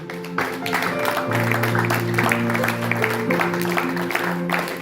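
A church congregation claps and cheers in praise, a dense sustained wave of applause from a crowd in a worship hall, with tonal music holding underneath and voices mixed in.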